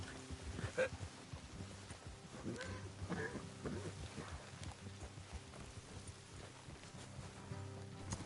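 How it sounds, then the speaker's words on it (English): Horses walk at a steady pace, their clip-clop hoofbeats moderately close and continuous beneath low background sound and faint voices. "Let's leave the horses here and go the rest on foot."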